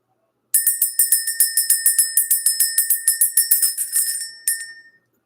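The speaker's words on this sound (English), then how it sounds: "Let's go ahead and ring the bell." A small bright bell is struck in a rapid, even series of about twenty clear rings, then one last strike that rings out and fades.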